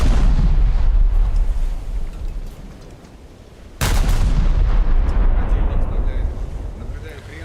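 Naval gunfire in a video game, aimed at a German light cruiser: a heavy, booming roar fades out, then a second loud blast erupts and rumbles on, with no voices.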